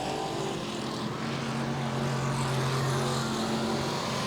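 Stock cars in a factory stock A feature race at Tulsa Speedway, a steady droning roar of engines lapping the track at a moderate distance, continuous with no break.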